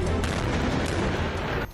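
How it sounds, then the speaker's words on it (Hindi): A UR-77 mine-clearing vehicle fires a rocket in a continuous loud roaring blast that holds steady and cuts off abruptly near the end. "रॉकेट दाग दिया गया।"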